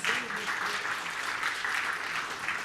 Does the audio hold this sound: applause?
yes